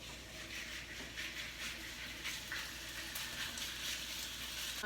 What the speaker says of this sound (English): And here are the cutlets. And you just add them on the pan.